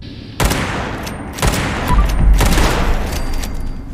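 Rapid bursts of Fallout 76 gunfire, several loud volleys in quick succession with booming impacts, dense and continuous with no talking.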